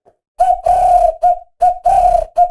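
A man whistles an imitation of an African bird call: a run of loud, clear, cooing whistled notes in close succession, alone, with short breaks between phrases.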